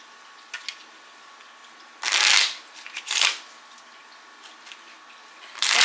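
A small blue Lenormand card deck is shuffled by hand in a few loud, close bursts of riffling and sliding cards, separated by quiet pauses with faint light taps.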